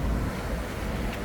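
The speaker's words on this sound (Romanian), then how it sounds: "Și valurile astea, nu știu dacă mereu e așa." Ocean waves wash onto a beach in Bali in a steady, broad roar, mixed with wind buffeting the microphone, close and loud throughout with no talking.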